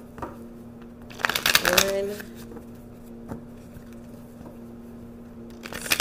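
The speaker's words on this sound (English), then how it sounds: "I'm going to shuffle three times." Tarot cards riffle in a quick burst of crisp, papery rustling, followed by quieter handling, with a voice speaking briefly.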